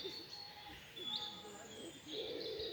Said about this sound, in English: And I also like the sound of the wood pigeon as well.